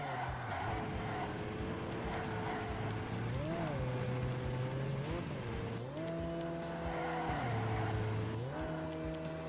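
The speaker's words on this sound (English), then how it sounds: "I love the turbo blow up sound as well." Racing car engine from Ford Racing 3 revving loudly and continuously, with rising and falling pitch through gear changes and a turbo blow-off hiss between shifts, steady and close throughout.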